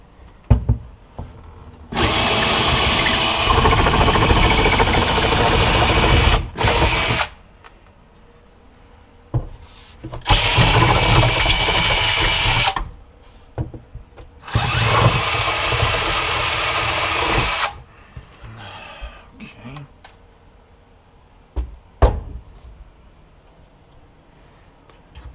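A power drill bores holes into a concrete wall to mount a reused cabinet, in three long loud bursts of several seconds each, separated by quiet pauses with faint handling noises.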